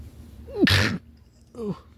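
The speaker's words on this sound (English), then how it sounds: "Oh, sorry, it's a big sneeze." A person lets out one big, sharp sneeze at close range, with a quick breathy intake just before it and a voiced sound right after.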